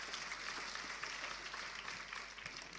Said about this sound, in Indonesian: Beri tepuk tangan untuk kebenaran ini.